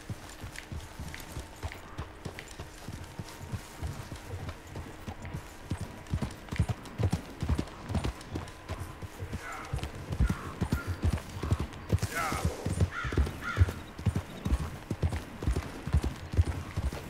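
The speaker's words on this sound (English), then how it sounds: "Get along, little horsey." Horse hooves clip-clop steadily in Red Dead Redemption 2, a continuous rhythmic trot of close, fairly loud hoofbeats with occasional faint game sounds mixed in and no speech.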